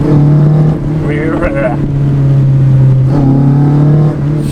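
A Toyota 4AGE engine fitted with bike carburetors in an AW11 revs hard on the throttle, its pitch climbing and falling in repeated loud, close surges over a steady idle drone.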